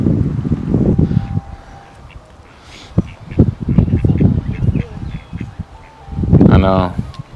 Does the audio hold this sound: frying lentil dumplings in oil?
no